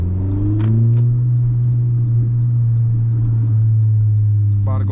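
Honda Civic Si turbo engine pulling hard under acceleration, a loud, steady, close drone filling the whole stretch, with a brief voice near the end.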